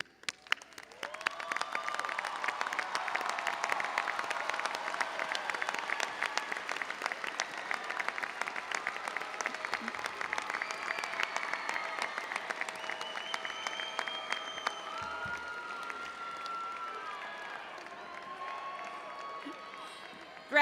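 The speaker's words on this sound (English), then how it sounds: "join me in applauding those who helped you earn your degree" Graduates at the spring 2025 UNT commencement ceremony applaud their family and friends: sustained, dense clapping from a large crowd fills the hall for about twenty seconds and thins slightly toward the end.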